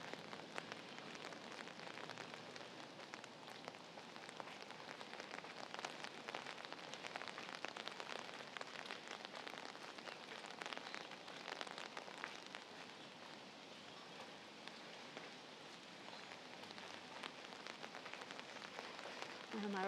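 Steady rain falls throughout a quiet walk in Bedok, Singapore, a dense continuous patter on surfaces with no voices.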